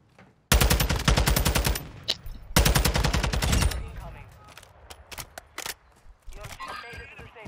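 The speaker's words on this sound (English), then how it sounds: "I got somebody shooting me as player." Gunfire in Call of Duty: Warzone: two loud, long automatic bursts of rapid shots close by, followed by scattered single shots and softer cracks at varying distances.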